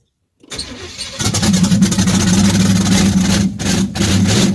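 A Chevrolet Camaro engine cranks and catches, a loud steady mechanical churn with a low rumble that starts abruptly after a brief silence and builds, then holds near and continuous for several seconds.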